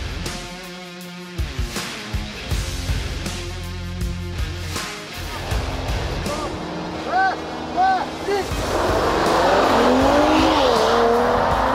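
An Audi A7 and a Mercedes-AMG E53 launch off the line in a drag race, engines revving and roaring with rising gear-change sweeps, loud and close, with a brief squeal and people talking throughout.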